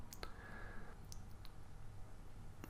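A mouse clicks on a submit button: a few crisp, quiet clicks close by over a low hum, with no voices.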